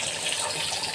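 Water poured into a pot of washed rice while cooking tomato rice, a steady close splashing pour running throughout the second with no talk.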